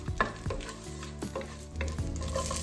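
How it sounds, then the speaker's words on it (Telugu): Biryani spices frying in butter and peanut oil in a pan, a close sizzle punctuated by several brisk stirring scrapes and clinks of a spoon against the pan, with no talking. "ఒక ప్యాన్లో 2 స్పూన్స్ బటర్ వేసి దాంట్లో కొంచెం పీనట్ ఆయిల్ కూడా వేసుకోవాలి. దాంట్లో కొంచెం మనకి ఇష్టమైన స్పైసెస్, కొన్ని బిర్యానీ స్పైసెస్ వేసుకోవాలి"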